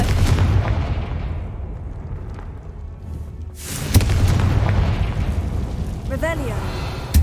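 A Confringo fire spell explodes in Hogwarts Legacy, giving a sharp booming burst partway through that sits among rumbling game ambience and other magical effects, with a voice calling out spells.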